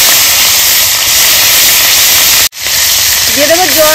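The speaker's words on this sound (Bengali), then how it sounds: "এই তেলে দিয়ে দেবো রাঁধুনি ফোড়নে। দিয়ে দেবো কাঁচা লঙ্কা ফোড়া।" Radhuni seeds and green chillies hit hot oil left from frying fish, a loud, steady hiss of sizzling that briefly cuts out, then resumes as a voice starts talking over it.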